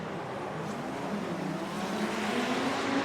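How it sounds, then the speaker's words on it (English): A drift car at a competition howls with a loud, sustained engine note that rises and shifts in pitch as it spins out, close and alone without talk. "Dean Carney spins out"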